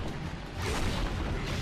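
Cannon enemies in the Chaos Legion video game boom in a dense, continuous rumble of heavy fire, loud and sustained with no clear gaps between blasts.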